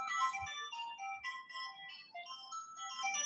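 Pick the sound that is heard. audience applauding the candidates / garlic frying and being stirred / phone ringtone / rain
phone ringtone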